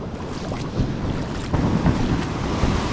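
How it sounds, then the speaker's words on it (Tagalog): Big waves at high tide roll in on a shore where boats are moored, a steady wash of surf mixed with buffeting wind noise, loud and close with no talk. "High tide kasi, high tide, tapos malalaki yung alon."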